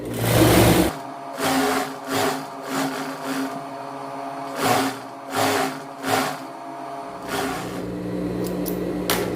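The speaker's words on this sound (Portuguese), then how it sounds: "e venho fazendo uma costura até na parte de baixo da minha alça aqui, tá? Dessa faixa." A sewing machine stitches a fabric strap for a child's dress in a series of short, loud mechanical bursts separated by brief pauses, close up with no talking.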